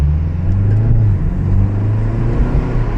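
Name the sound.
BMW 330i G20 engine turbo spooling while driving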